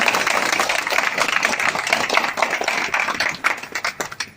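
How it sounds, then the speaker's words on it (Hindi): A rally audience claps together in a dense, steady burst that thins toward the end into scattered separate claps. "अगर ये सही हो तो ताली बजा दो"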